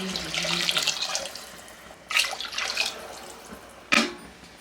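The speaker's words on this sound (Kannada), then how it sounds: "ಅಕ್ಕಿ ತಗೊಂಡಿರೋದ್ರಿಂದ 5 ಗ್ಲಾಸಷ್ಟು ನೀರು" Water poured into a pot of fried masala and rice for egg biryani, a steady splashing pour running for about two seconds, then two more short gushes, close and fairly loud with no talk.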